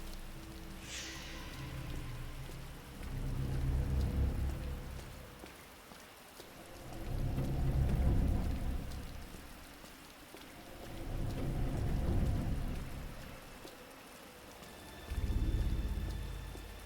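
Rain falling in a modded Resident Evil 2 Remake game world, a steady hiss of rain on surfaces with rolling swells that rise and fall in loudness, alone without any talk.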